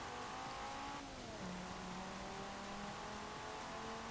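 A stock all-wheel-drive car in Forza Horizon 4 speeds along with a continuous engine drone whose pitch drops through a gear change and then climbs again, loud and steady throughout.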